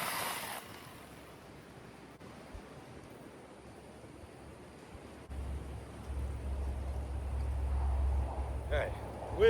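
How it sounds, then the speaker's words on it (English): Gusts of wind rush and buffet the microphone outdoors, starting faint and building into a louder, low rumbling blast toward the end. "wind picked up a little bit"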